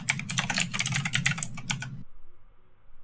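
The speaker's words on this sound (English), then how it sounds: "I have a mechanical keyboard." Rapid, steady clatter of typing on a mechanical computer keyboard, close and crisp for about two seconds before it stops abruptly, leaving near silence.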